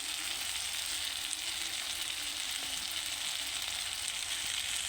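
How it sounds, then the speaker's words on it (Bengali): Tomatoes fry with salt, turmeric and chili powder in a pan, giving a steady, even sizzle throughout with no talking. "টমেটোগুলো আর কি ভালোভাবে আমি ভেজে নেব।"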